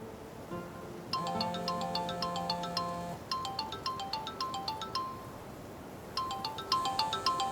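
A mobile phone's outgoing call rings in repeated electronic ringtone bursts, a steady melodic pattern pausing and restarting several times, clear and close with no talk.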